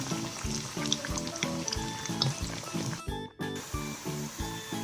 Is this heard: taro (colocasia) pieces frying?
yes